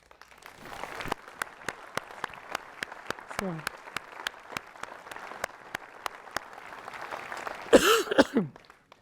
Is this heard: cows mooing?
no